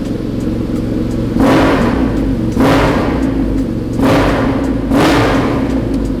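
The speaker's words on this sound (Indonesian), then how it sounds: "ini adalah knalpot dari unit garage. Jadi ini memang knalpot custom, bukan knalpot orinya lagi. Kita coba dengerin yuk suaranya kayak apa." A BMW R nineT Paris Dakar boxer-twin motorcycle fitted with a custom aftermarket exhaust idles with a low, throbbing rumble, then is blipped four times in short, loud revs that rise and fall sharply, heard close up.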